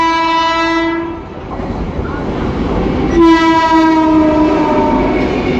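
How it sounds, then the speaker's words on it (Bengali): The New Delhi Ranchi Rajdhani Express passes close by, its horn blaring in two long loud blasts over the rumble and clatter of the moving train. "নিউ দিল্লি রাঁচি রাজধানী এক্সপ্রেস।"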